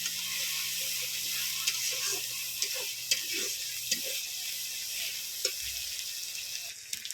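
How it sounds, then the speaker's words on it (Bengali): Ginger and garlic paste sizzles in a hot wok with a steady, bright hiss. Occasional small pops and utensil clicks sound over it, and a voice speaks faintly at times. "আদা আর রসুন বাটাটা দিয়েছি, কড়ার মধ্যে চটচট করে ছিকুড়োয়"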